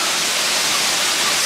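A hiking-trail waterfall roars as a steady, loud broadband rush of falling water, continuous and unbroken throughout with no voices.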